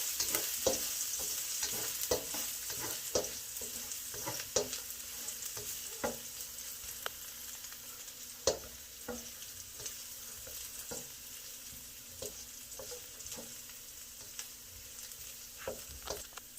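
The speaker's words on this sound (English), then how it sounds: "Wok sizzling hot." Garlic, about three cloves, frying in olive oil in a very hot wok, a steady bright sizzle broken by repeated scraping clicks of stirring, fairly quiet and with no talking.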